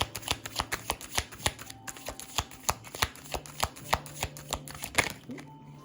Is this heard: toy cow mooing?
no